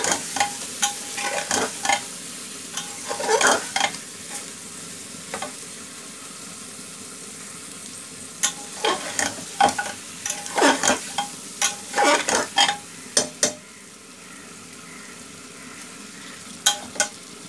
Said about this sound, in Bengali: গ্যাসটা মিডিয়াম লোতে করে দিব, করে দিয়ে মাংসটা ভালো করে কষিয়ে নিতে হবে।